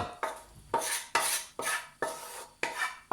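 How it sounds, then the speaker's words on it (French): Wooden spoon scraping cooked vegetables from a pan onto a plate in a home kitchen, six sharp rasping strokes in quick succession, close and clear with no talk. "Allez, on va verser tout ça sur l'assiette"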